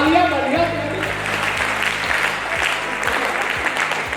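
Audience applause at a Hindi poetry recital fills the clip, a dense, steady wash of clapping from a crowd that holds at an even level throughout, with a voice speaking briefly near the start.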